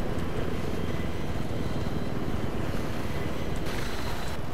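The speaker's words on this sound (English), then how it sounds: "Got the chopper, I'm picking you up." Helicopter in the video game Battlefield 3, a loud steady rotor and engine roar filling the whole stretch with no voices over it.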